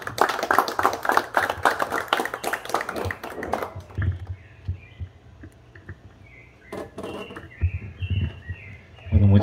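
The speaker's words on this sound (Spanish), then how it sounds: "pido un fuerte aplauso para el licenciado Calles" Audience applause at a poetry recital in Chalatenango, brisk clapping for about four seconds that quickly thins out, followed by scattered taps, room noise and a few voices.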